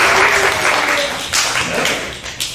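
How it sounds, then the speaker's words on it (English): Brief burst of audience clapping and cheering at a Sunday Dharma family service, fairly close and dense, tapering off over a couple of seconds. "you're supposed to clap at this point"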